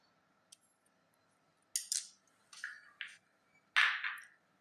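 A knife cuts through a cashew apple fruit in several crisp, close slicing strokes, each a short sharp scrape, spaced across a quiet room with small faint taps in between.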